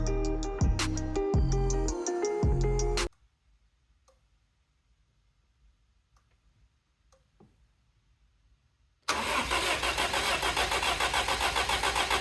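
A BMW E30 barn-find car engine starting: a loud mechanical burst for about three seconds, a long near-silent pause, then a dense, steady roar that runs to the end.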